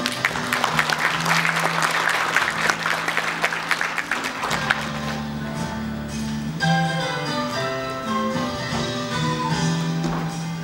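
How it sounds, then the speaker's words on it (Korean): An audience at the KISTI ScienceON service opening ceremony claps to welcome a speaker, with dense, lively applause over the first six seconds before it gives way to playing music. "여러분 박수로 맞이해 주시기 바랍니다"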